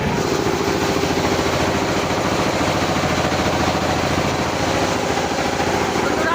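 A ferry launch's engine drones steadily as the boat pulls away from the ghat, a continuous mid-pitched motor hum with a faint voice underneath.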